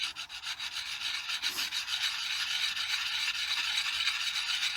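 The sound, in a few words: sharpening an axe on the coarse side of a stone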